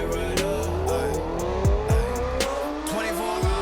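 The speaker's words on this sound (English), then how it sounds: "tried to find a sound of closest to his bike that sounded good enough without a bunch of wind in it" Motorbike ridden at speed, its engine revving up and down through rising and falling pitch sweeps, with a few sharp whooshing passes, loud and continuous over the short stretch.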